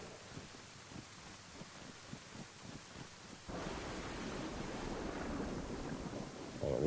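Thunderstorm in the DayZ video game, set in the Livonia mountains: heavy rain hisses and low thunder rumbles build, swelling louder midway into a sustained roar with no talk.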